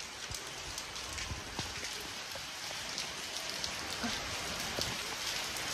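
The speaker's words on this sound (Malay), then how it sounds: "Hujan." Rain falls steadily and densely, with scattered droplet hits during a family barbecue outdoors and no talking.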